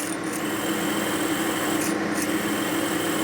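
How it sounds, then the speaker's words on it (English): A steady, continuous grinding whir of a drill boring into a 1957 Harley-Davidson Panhead cylinder head, with a constant level and no talking. "We're letting the drill do the work."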